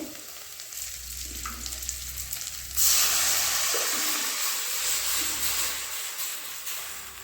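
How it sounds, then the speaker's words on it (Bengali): Onions sizzle and crackle in a hot pan, a continuous frying hiss that grows a bit louder partway through, with occasional stirring scrapes. "পেঁয়াজগুলো ভাজা চলছে"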